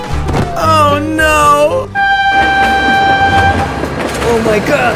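A loud train passes with its horn blaring in a toy-car cartoon featuring Thomas, the sustained horn blast following excited shouting voices, with rumbling and clatter underneath.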